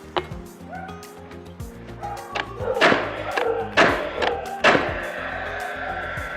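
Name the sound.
Paslode straight brad nailer shooting brads into board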